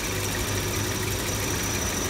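A Volvo car engine idles steadily after a Sea Foam cleaning treatment, with a low, even rumble and slight rhythmic knock, continuous and close.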